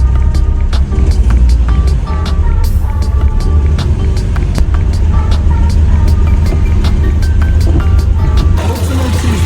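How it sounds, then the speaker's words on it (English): A Ford Figo car engine runs and is revved, giving a steady close rumble under a rapid train of sharp ticking clicks, with the roar swelling slightly partway through. "And then I must rev it a bit."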